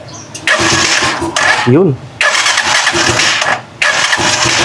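Rusi Chariot 175 motorcycle in neutral cranking and catching several times, bursts of starter whine and engine firing separated by short pauses, loud and close, with someone talking over it.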